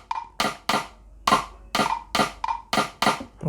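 Sequenced drum track from GarageBand for iOS playing an afrobeat-style groove, with punchy hits in a busy, steady rhythm, loud and close with no talking.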